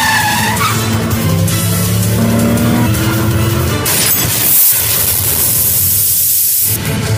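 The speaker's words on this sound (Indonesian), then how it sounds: "Sementara Singham dan Padnis mengejar mobil yang membawa Anjali" Loud car chase from an Indian action film: tires skid and squeal over a roaring engine, with a hissing spray-like burst near the end.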